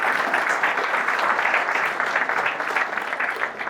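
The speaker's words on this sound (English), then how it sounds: "Give her a round of applause." Audience applause after a speaker thanks her mother at a personal growth talk, a steady dense wash of clapping from a crowd, moderately loud and sustained throughout without pause.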